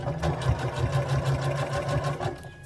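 Sewing machine stitching around a zipper on a bear-eared hoodie, a close, continuous rhythmic needle chatter running steadily throughout with no talk.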